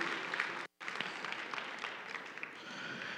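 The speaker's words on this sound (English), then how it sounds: "keep on giving them a big round of applause" Audience applause for Dean's List finalists at a robotics district competition opening ceremony, a steady clatter of clapping with a brief gap of silence early on, then continuing evenly at moderate level.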